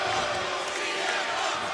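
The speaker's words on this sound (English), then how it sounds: "Listen to this crowd." A large wrestling arena crowd roars and cheers in a continuous dense wash of noise, steady and loud throughout.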